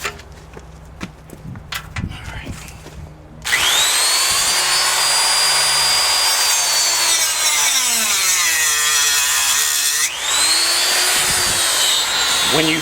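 A grinder cuts into the aluminum seam of an outboard motor's tiller housing, a loud, sustained high whine that shifts pitch as it bites, following quieter handling noises and some talk before it starts.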